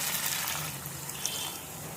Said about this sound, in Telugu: ఈ టైంలో మనం కొద్దిగా వాటర్ వేస్తాం